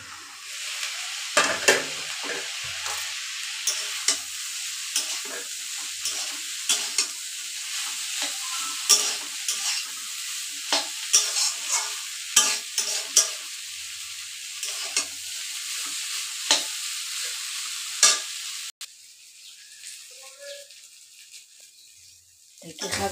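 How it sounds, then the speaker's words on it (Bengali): Dheki saag greens fry in a pan with a steady sizzle and repeated scraping stirs, then fall away to a quieter hiss near the end, with a voice talking at times. "এটা আমি একদম বড় বড় করে ভাজছি বাপের বাড়ির স্টাইলে"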